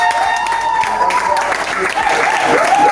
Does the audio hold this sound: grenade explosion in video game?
no